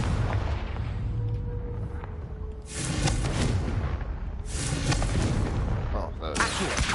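Confringo blasting-spell explosions in the Hogwarts Legacy video game: several loud booming blasts a second or two apart, each a broad roaring burst over continuous game background noise.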